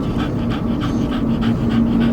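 A dog pants rapidly and steadily right beside the microphone, quick rhythmic breaths continuing without pause.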